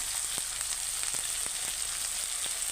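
Rui fish chunks coated in turmeric, chili powder and salt sizzle in hot oil in a pan, a continuous close frying hiss broken by scattered sharp pops and crackles, with no voices.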